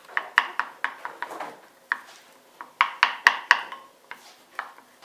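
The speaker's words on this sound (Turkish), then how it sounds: "Süzme yoğurduma 2 diş de sarımsak ekleyeceğim. Ve yoğurdumu karıştırıyorum." A spoon stirs strained yogurt mixed with two cloves of garlic in a bowl, giving a run of bright, close clinks and scrapes in uneven bursts with short pauses between them.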